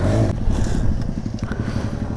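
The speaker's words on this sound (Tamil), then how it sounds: "கரகர கரகர கரன்னு சுற்றுது" A KTM RC 200 motorcycle with a faulty chain turns with a loud, close, rhythmic rattling and clattering that pulses steadily under the engine's drone.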